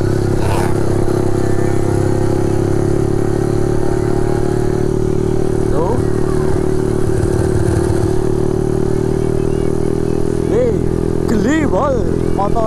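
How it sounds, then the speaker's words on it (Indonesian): Motorcycle engine runs steadily and loudly with strong vibration, droning and rattling while riding on a busy road toward Widarapayung beach in the early morning, with someone talking throughout. "Geli bol motornya geter banget ya"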